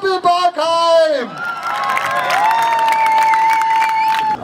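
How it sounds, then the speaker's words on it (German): A crowd cheers and whoops at a village games event outdoors, a loud voice calling out first, then sustained shouting, cheering and clapping. "Wo bleibt der Jubel"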